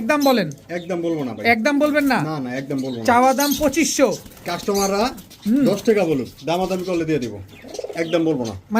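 Pigeons of fancy breeds such as lakka, king and shirting coo at a pigeon sale, their soft calls mixed in and partly masked by someone talking continuously close by.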